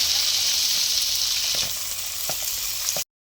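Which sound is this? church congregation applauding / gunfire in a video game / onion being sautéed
onion being sautéed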